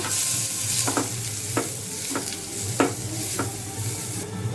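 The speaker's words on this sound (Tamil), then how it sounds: "இப்போ நம்மளுக்கு வெங்காயம் நல்லா வதங்கிடுச்சு" Steady sizzling of finely chopped onions frying in a pan for palak paneer, with a spoon stirring and scraping at regular intervals, close and fairly loud.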